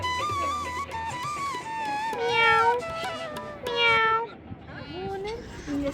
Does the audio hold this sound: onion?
no